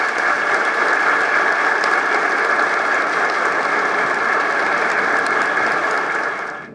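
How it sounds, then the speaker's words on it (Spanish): A large lecture audience bursts into loud, sustained applause, a thick, even wash of clapping that holds steady for several seconds before cutting off abruptly. "para quien pido aquí un fuerte aplauso"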